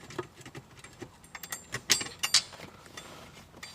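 Small machine screws being fitted back into the center console trim plate of a Ferrari 360/430, heard as a few faint metallic clicks and light ratcheting taps with quiet handling noise between them.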